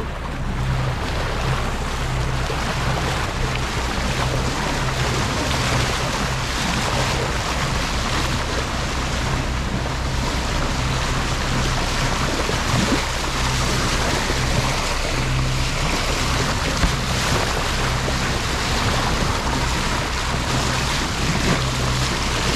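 A sailboat motors under engine power near Gibraltar, with a steady low engine drone under continuous wind rush and wave wash against the hull, loud and unbroken throughout with no voices.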